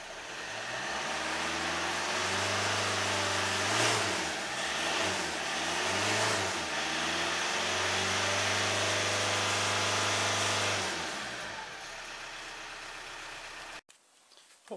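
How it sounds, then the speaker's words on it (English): A Toyota D4D diesel engine with a noisy turbocharger runs steadily up close, with a loud droning hum, a couple of revs and a whining whoosh on top, before it winds down and cuts out near the end. "got a noisy turbocharger."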